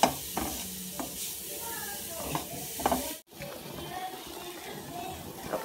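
Grated coconut sautés in melting sugar in a pan, giving a soft continuous sizzle with repeated scraping stir strokes and a brief silent gap partway through.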